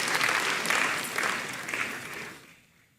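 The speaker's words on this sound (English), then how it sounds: "Let's welcome him with a clap." Audience applause at a university ceremony greets the council chairman invited to give closing remarks, a steady wash of clapping that fades out near the end.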